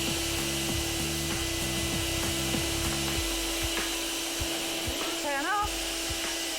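A vacuum cleaner runs steadily, drawing air out of a vacuum storage bag to seal it, a continuous loud whooshing hum with a brief background voice near the end.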